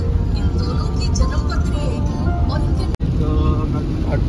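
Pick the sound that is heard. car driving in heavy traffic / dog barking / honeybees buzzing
car driving in heavy traffic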